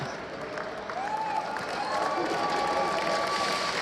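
A crowd at an Overwatch esports finals at Gamescom cheers and claps in a continuous roar that swells slightly, with a few shouts rising above it.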